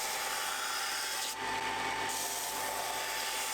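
A disc sander rounds over the edge of a wooden knife-blade scraper with a steady, continuous abrasive rasping and whir. It runs without a break and stays loud and close throughout.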